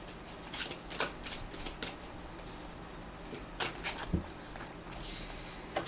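A deck of tarot cards is shuffled close up in quick riffling bursts separated by short pauses, soft and papery, with no talking.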